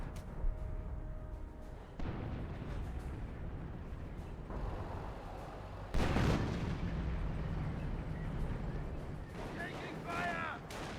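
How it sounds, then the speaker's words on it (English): Artillery barrage in the video game Company of Heroes, with heavy booms and rumbling blasts landing one after another over dense battle noise, loud and close, while voices talk throughout. "Now got a officer artillery barrage as well."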